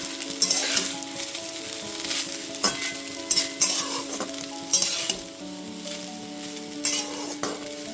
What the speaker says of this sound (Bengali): গোলমরিচ আর গরম মশলা গুঁড়োটা খুব ভালো মতো মিশিয়ে নিচ্ছি।